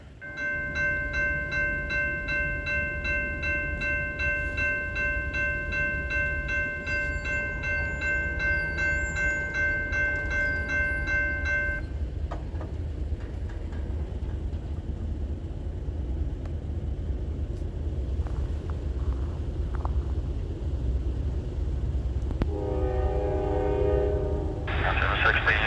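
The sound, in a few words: train locomotive throttling up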